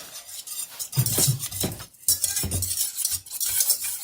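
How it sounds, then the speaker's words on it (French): Eggs and sugar for carrot cake batter are mixed in a bowl with a utensil, close rhythmic scraping and clinking strokes with a short pause midway. "après les œufs, il faut mélanger un tout petit peu et en même temps, on met le sucre"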